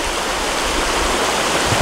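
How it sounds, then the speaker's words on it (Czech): Steady rushing roar of a waterfall on New Zealand's North Island in the Waikato region, broadband and continuous with no gaps, loud and close throughout with no speech over it. "Tady jsou ty vodopády."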